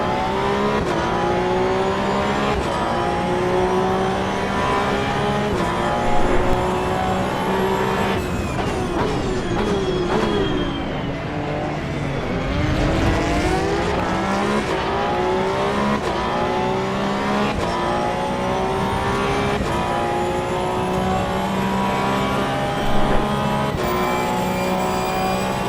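Race cars circle Spa in the video game Assetto Corsa EVO, engines droning and revving without a break, with gear shifts, rising and falling pitch as cars pass, and faint tyre noise, all steady and loud with no talk.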